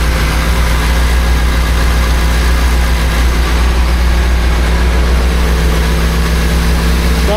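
Steady, loud engine idle from a 1976 BMW 2002 warming up, a constant low rumble with a hum and no change in pace for the whole stretch.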